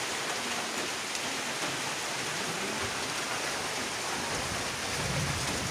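Steady morning rain pours down outdoors in a continuous, even hiss of falling drops hitting surfaces, loud and unbroken for the whole stretch with no voices.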